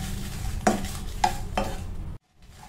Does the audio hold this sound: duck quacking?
no